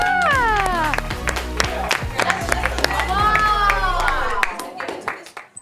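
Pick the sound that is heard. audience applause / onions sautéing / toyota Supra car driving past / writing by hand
audience applause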